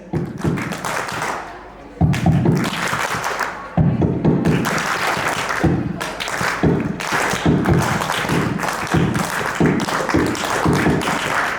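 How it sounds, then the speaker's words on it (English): An event crowd claps along to a beat, with bursts of rhythmic, fairly loud clapping broken by short pauses and mixed with voices. "You're not clapping to the beat"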